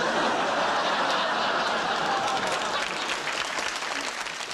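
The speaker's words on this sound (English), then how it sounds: "we have to wait, you see, because the audience applauds" A Fawlty Towers studio audience applauding a sitcom scene, a dense, steady wash of clapping from many hands that holds loud throughout with a few faint chuckles mixed in.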